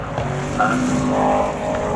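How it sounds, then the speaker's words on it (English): A yellow Porsche 911 race car, driven by Rob Holliman in GT Challenge qualifying at Snetterton, crosses the line as a steady engine drone mixed with circuit noise, fairly loud and without a sharp pass-by peak. "third fastest is the Rob Holliman Porsche 911, the yellow one, which crosses the line now"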